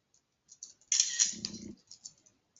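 A burst of quick computer keyboard key presses while entering a keyboard shortcut on a Mac, a dense cluster of clicks with a soft thump, close and fairly quiet, with scattered lighter taps before and after.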